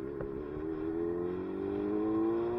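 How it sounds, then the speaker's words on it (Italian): A tractor passes nearby, its engine a steady droning rumble that swells slightly and rises a little in pitch as it approaches, with no talk over it. "Trattore."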